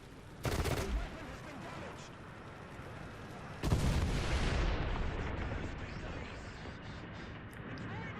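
Tank cannon fire in War Thunder, aimed at an enemy through a building: two heavy blasts a few seconds apart, each followed by a long rumbling decay, with someone talking in between.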